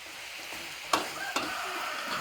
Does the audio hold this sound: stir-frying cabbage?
yes